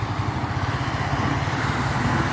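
A motorcycle engine putters with a rapid, even chugging rhythm as the rider pulls away, fairly close and moderately loud, without any voices.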